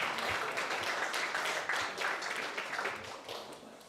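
Morning crowd at the Munich AI Summit applauds and cheers, a dense patter of clapping that stays loud, then gradually thins and fades toward the end.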